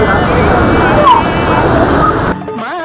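Hogenakkal waterfall on the Kaveri river in Tamil Nadu roars with a loud, steady rush of water for over two seconds, then cuts off abruptly and gives way to faint musical tones.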